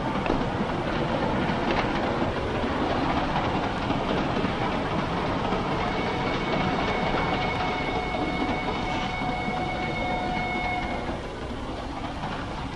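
A 1940s passenger train rolls along the rails in a steady, dense rumble with faint rhythmic clatter and a few thin squealing tones, continuous and moderately loud, with no voices.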